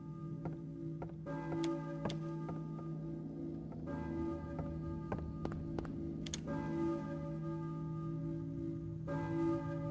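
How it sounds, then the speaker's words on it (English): Church bell tolling in the PS1 survival horror game Silent Hill, repeated clear strikes ringing out over a steady low ambient drone, with lingering resonance between hits and no talking. "church bell, maybe? Who is ringing the bell?"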